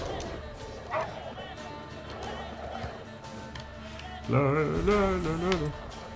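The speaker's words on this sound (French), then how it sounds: "Des chiens, un chien enragé." Rabid dogs bark and snarl aggressively amid game sound effects in The Witcher 3, with a loud burst of harsh barking near the end; someone talks over it.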